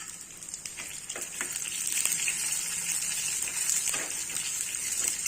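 Sliced ginger and two halved green chilies sauté in hot oil for millet pongal, giving a loud, continuous close-up sizzle and crackle with occasional stirring scrapes.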